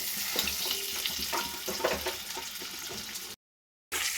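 Egg fries in a pan while being stirred, a steady close sizzle with soft scraping strokes, cutting to a brief silence before the sizzle resumes.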